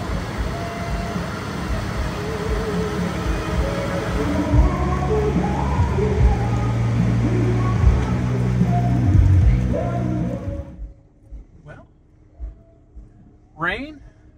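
Steady rain hisses over a carnival lot with a low rumble of engines or machinery, fairly loud and continuous, then cuts off to near quiet with a few scattered sounds.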